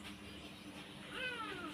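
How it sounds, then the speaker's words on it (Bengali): A kitten meows faintly in a home kitchen while cooking is prepared, a short rising and falling call near the end over low room noise. "এই যে বিড়াল ছানা ডাকছে"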